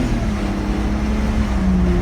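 A 2003 BMW 325i inline-six accelerating at about three-quarter throttle, a steady smooth engine drone with a rising low tone, heard continuously from inside the car.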